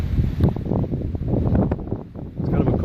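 Gusty wind buffets the microphone on a high bluff over Lake Michigan on a cool day, a rough, rumbling roar with brief louder bursts and faint rustling.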